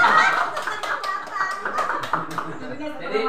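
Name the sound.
classroom clapping hands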